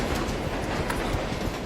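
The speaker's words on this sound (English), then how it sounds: "And let's not get hit by the train again." A train rumbles past in the virtual reality game Pavlov VR, a steady, loud, dense roar with rhythmic wheel clatter filling the whole span.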